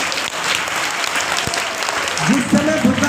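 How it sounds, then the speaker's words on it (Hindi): Students clap together in a classroom during a disaster-preparedness session, a dense burst of applause with a few voices calling out near the end. "एक बार ताली लगाओ इनके लिए"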